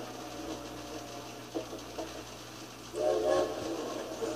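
Train at a railway depot in Paris in the video game Valiant Hearts, a low rumbling station ambience with faint clanks and a brief whistle-like tone rising near the end, moderately quiet.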